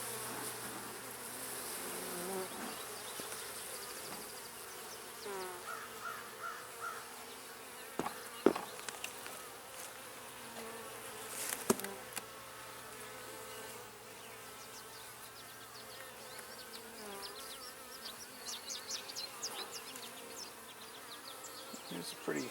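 Honey bees buzz steadily around an open hive during an inspection, a dense, close hum that carries on throughout with a few brief louder clicks and knocks near the middle.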